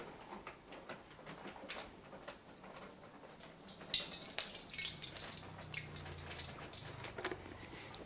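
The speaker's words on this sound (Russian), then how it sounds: "наливаем масло." Cooking oil poured into a new wok heated over a low gas flame during seasoning, making a faint, irregular trickling and dripping patter close by, with no talking.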